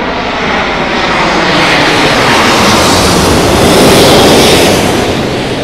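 A Boeing 777 airliner passing overhead on approach to Heathrow, a loud, close, continuous engine roar that builds slightly and stays steady throughout.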